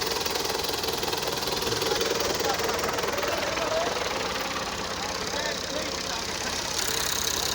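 A Belarus tractor engine idles steadily through the night while it stands by to pull a trapped trailer of wood, a continuous low knocking rumble running unbroken and fairly close.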